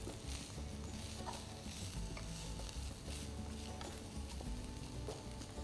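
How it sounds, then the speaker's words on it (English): Carrot juliennes and baby shallots stirred and roasting in masala for Thai vegetarian noodle soup, busy scraping and stirring over a constant sizzle, close and fairly full, with no talk. "Give it a stir, coat it with the masala, and let the vegetables roast for about another 5 minutes"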